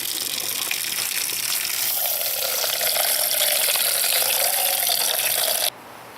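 Stored tap water pours steadily from a container in a loud, continuous gushing splash that cuts off abruptly near the end.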